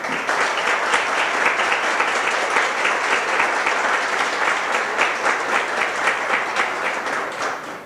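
Sustained audience applause in a lecture hall after a talk on science, dense steady clapping throughout at a loud, even level with no voices above it.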